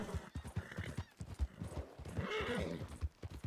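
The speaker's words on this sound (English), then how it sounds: "Is that a horse? Yeah, those are horses." Horses clip-clopping in Red Dead Redemption 2, a steady run of hoof knocks with a soft whinny-like murmur, moderately quiet and close.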